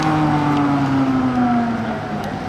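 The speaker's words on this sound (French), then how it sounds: "Elle fait un bruit grave sympa celle-ci, elle doit pas avoir une ligne d'échappement d'origine." An Audi A5, apparently fitted with a non-original exhaust, gives a deep, steady rumble close by, its low drone sliding gently downward as it idles or coasts past.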